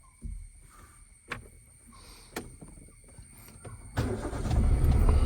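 A car engine starts after several faint clicks and clunks, cranking and catching near the end into a rising rumble.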